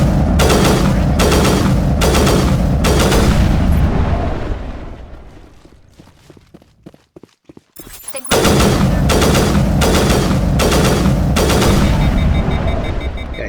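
Rapid gunfire and blasts from a shootout in Mass Effect 1 Legendary Edition, loud and dense in sustained bursts, breaking into a quieter gap of scattered shots and clicks before heavy firing resumes.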